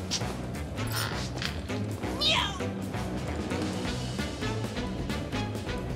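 A cat meows in the game Final Fantasy VII Rebirth, one clear rising-and-falling call standing out midway above busy game music and ambient clatter.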